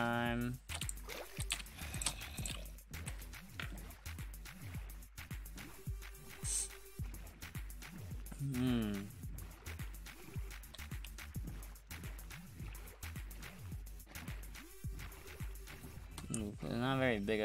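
Rowing a boat in Minecraft, soft water paddling and splashing sounds repeating under a person talking, with keyboard typing and clicks throughout.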